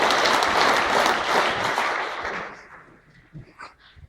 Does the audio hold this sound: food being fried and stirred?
no